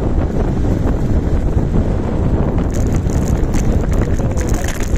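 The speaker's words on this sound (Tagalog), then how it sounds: "sana naririnig nyo kahit na malakas yung hangin" Strong wind buffets the microphone during a bike ride in Bataan, with a steady, loud low rumble throughout and some brighter gusty rustling toward the end.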